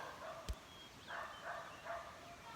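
A dog gives a few short, faint yips and barks from a distance outdoors, spaced out over a quiet background.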